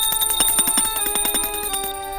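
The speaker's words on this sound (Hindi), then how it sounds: "अम्मा जी की घंटियां दुनिया भर में गूंज रही हैं" Small handbells jingle rapidly and continuously indoors in a family home, bright metallic strikes tumbling over each other at a steady, moderately loud level without any talk.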